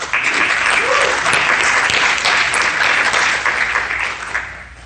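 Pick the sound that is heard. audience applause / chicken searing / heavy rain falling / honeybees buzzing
audience applause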